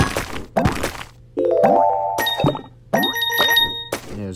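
Cartoonish game sound effects from a soccer ball weapon attack in the mobile platformer Lep's World: quick thunks, springy boings and chiming pings in short loud bursts with no speech.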